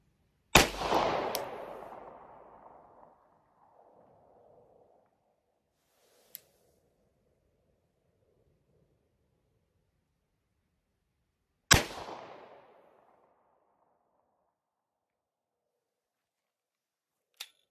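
Two sharp, loud shots ring out about eleven seconds apart, each from an Atlas Gunworks Artemis 9mm pistol fired at a 500-yard target outdoors. Each crack is followed by a long rolling echo, and faint ticks and clicks fall between the shots.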